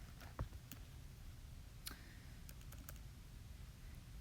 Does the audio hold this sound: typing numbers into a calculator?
yes